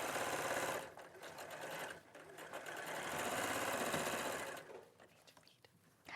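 A sewing machine stitches along a seam allowance in a live sewing session, its fast steady whirring running in long bursts with a short pause between them, while a voice talks faintly underneath.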